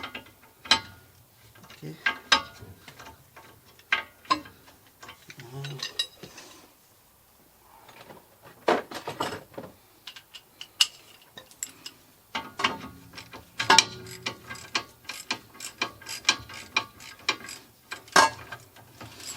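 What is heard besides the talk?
19mm wrench loosening a Toyota Corolla strut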